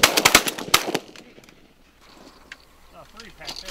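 Shotgun blasts at pigeons during a hunting contest, a rapid cluster of sharp loud shots at the start, followed by quieter outdoor ambience and birds while voices talk faintly.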